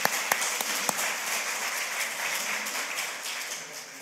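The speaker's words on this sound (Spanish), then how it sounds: "Gloria a Dios, un aplauso al Señor," Church congregation applauding during a Sunday service, steady dense clapping throughout with a few sharper claps near the start, fairly distant and moderately loud, with no one talking over it.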